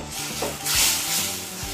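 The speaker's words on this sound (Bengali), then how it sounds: "গুঁড়ো মশলা দিয়ে ভালো করে নেড়ে মিশিয়ে কষিয়ে নিতে হবে।" Ground spices frying and being stirred for a goat liver bhuna, a steady hiss with scraping swirls of a spoon through the pan, close and clear with no speech.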